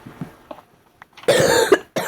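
A man with a cold coughs, one harsh, loud close cough preceded by soft throat noises and breaths, followed by the start of another cough.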